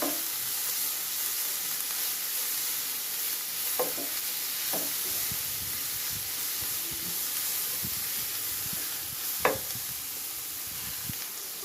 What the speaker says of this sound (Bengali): পেঁয়াজটা এবার আমি একটু ভেজে নিব।